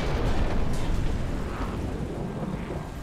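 A tank's ammo rack exploding in War Thunder: a dense, roaring blast rumble that stays loud and slowly fades over a few seconds, with no talking.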